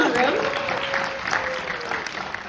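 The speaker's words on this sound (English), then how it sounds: "Can we give a round of applause for this gentleman in the room?" A room audience at a talk on creative technologists claps steadily for a couple of seconds, a moderate, even patter of applause, with a faint voice or tone running underneath.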